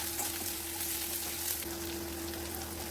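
Chopped ginger and garlic pieces fry in hot oil for a Schezwan chicken dish, giving a steady, dense sizzle with a constant low hum beneath and no voices.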